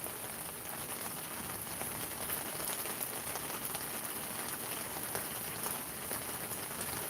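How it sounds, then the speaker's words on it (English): Steady rain falls outdoors, a dense continuous patter on surfaces that stays close and fairly loud throughout, with no voices heard. "yeah, it's raining out here,"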